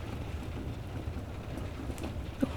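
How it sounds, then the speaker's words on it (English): Gentle rain falls outside in a soft, steady patter with a low, even hiss throughout and no voices. "The gentle rain outside."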